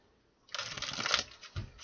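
A quick riffle of a tarot deck being shuffled, a soft close flutter of cards lasting about a second, then a light tap as the deck settles.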